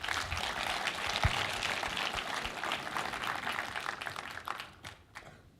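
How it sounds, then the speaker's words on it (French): An audience at a short film festival closing ceremony applauds the youth jury with sustained clapping that fades out toward the end. "Merci beaucoup, on peut les applaudir."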